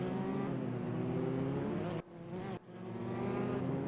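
A race car engine at the Red Bull Ring drones steadily with a buzzing, harmonic tone, briefly cutting out twice before resuming, faint and heard as if from on board.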